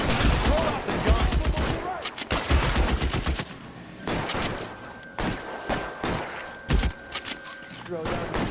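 Gunfire in the video game L.A. Noire crackles in rapid bursts and scattered single shots, with heavy thumps and a lingering tone, while voices shout over the firefight.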